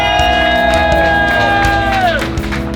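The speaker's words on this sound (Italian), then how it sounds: "Facciamo un grosso applauso a Jarno Boano!" Loud crowd cheering and whooping at an EnduroGP motorcycle enduro event in Bettola, Italy, with sustained music tones running through the noise of the audience.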